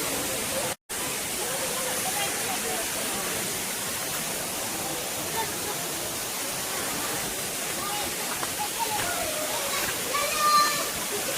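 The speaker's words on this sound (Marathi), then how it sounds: "धबधबा तेवढा मोठा नाही आहे, छोटा आहे, पण वॉटरफॉल म्हणून जास्त लोक येतात" A small waterfall in dense forest pours with a constant broadband rush of falling water, steady and fairly close, with a faint splash here and there.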